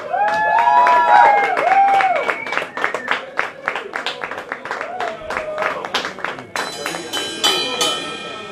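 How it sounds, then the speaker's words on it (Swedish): An audience applauds a guest being welcomed at a live stage show, a steady spread of claps running throughout with a voice and pitched tones rising above it. "ge en varm applåd"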